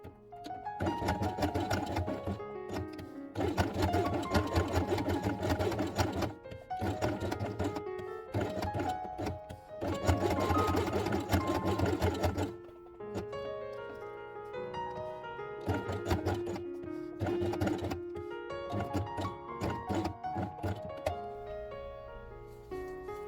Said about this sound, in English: Place these elements on white felt and sew along the edge.